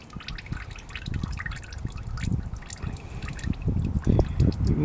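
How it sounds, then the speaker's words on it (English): Oil drains and drips from an upturned oil filter on a Toyota Sequoia, a close, continuous trickle with scattered drips that grows a little heavier toward the end. "A lot of oil comes out of this on these."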